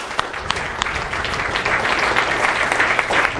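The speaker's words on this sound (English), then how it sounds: "So guys, let's give Steve a round of applause." An audience at an event applauds Steve, who builds applications for Alexa, as he comes up, steady dense clapping throughout, fairly close and even in level.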